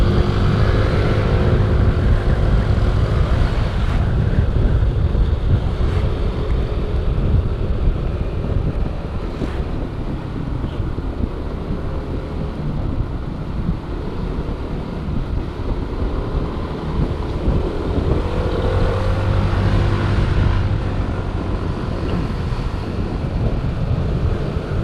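A scooter with a CVT engine is ridden with a foam wind muffler over a GoPro Hero 5, giving a steady, loud rushing blend of muffled wind and engine drone throughout.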